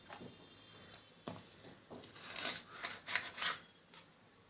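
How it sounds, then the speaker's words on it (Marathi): A knife slices through a capsicum (bell pepper) on a board, producing soft, quiet crisp cuts and scraping strokes in an irregular rhythm, the last few a little crisper. "आता मी तुम्हाला शिमला मिरची कापून दाखवते आहे।"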